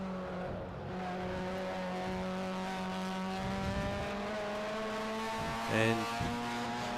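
Under 2 litre production race cars on a motorsport circuit, engine tones droning at a distance and one car rising and passing more loudly near the end, with faint commentary underneath.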